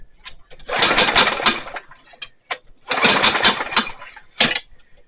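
A John Deere JS63 self-propelled push mower engine sputtering in two loud bursts with a rattling, ticking chatter, dying down between them, close by.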